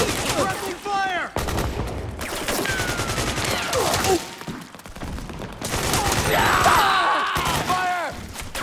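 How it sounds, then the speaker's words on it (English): Heavy gunfire in the video game Metal Gear Solid 4, loud rapid volleys and scattered shots mixed with clanks and debris, under shouted voices and battle chaos throughout. "We've got company! Suppressing fire!"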